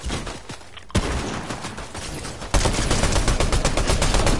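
Rapid gunshots in Fortnite crackle in dense, loud bursts that grow heavier partway through, filling the short stretch without any talk.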